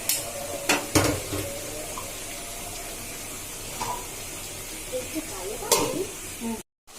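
Biryani with lemon juice being stirred in a pot: scattered scraping and clinking of a utensil against metal over a low steady sizzle, with a few sharper knocks.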